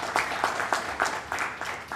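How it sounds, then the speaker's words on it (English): Audience applause at a panel session on the North-East, steady dense clapping from a crowd at moderate loudness, filling both seconds without talk. "A big round of applause for him"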